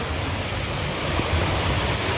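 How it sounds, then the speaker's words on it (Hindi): Heavy rain pours down steadily, a dense, loud hiss of drops drumming on surfaces with no pauses. "ये देखो तेज बारिश होने लगी है बहुत ही ज़्यादा।"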